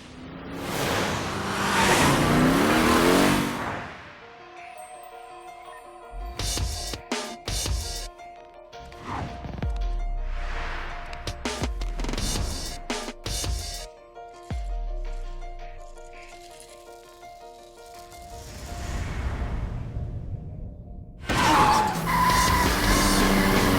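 Racing cars from the Ridge Racer 6 opening sequence on Xbox 360 roar and skid with tire squeals and rattling impacts, loud and busy, broken by short sharp bursts and brief quieter gaps.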